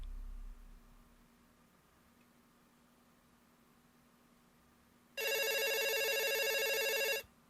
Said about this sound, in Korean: 그렇게 또 며칠 후 한밤중 K 선생님의 자취방으로 전화가 걸려왔다